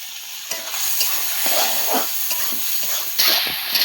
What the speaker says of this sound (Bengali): তেলগুলো দিয়ে একটু নাড়াচাড়া করে নিলাম।